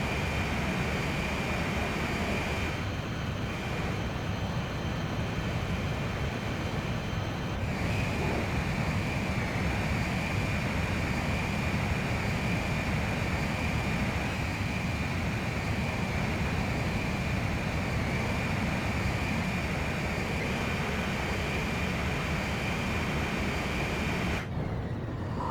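Steady, loud roar of a jet aircraft engine during aerial refueling in Ace Combat 5 on PlayStation 2, a continuous dense rumble and whine that holds without break throughout.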